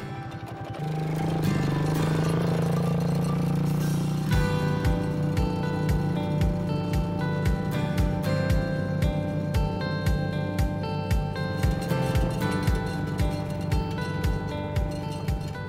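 A four-wheeled ATV runs near at a steady rumble, with a regular rapid pulsing in the low end that continues throughout on a highland farm, no voices present.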